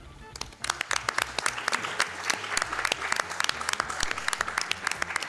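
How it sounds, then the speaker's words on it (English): A live audience at a speedrunning marathon event in a theater applauds a Gex 3: Deep Cover Gecko run, a dense, steady wash of clapping from many hands lasting throughout, fairly near and full. "Can we get a round of applause for this great run?"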